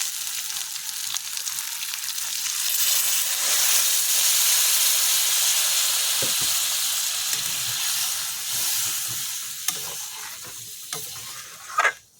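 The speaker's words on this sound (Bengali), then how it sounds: "এর মধ্যে আমি এখন জল দিয়ে দেবো" Water hits browned meat in a hot pan and sets off a loud, broad sizzling hiss that swells, holds for several seconds and then slowly settles into a quieter bubbling with a few small clinks.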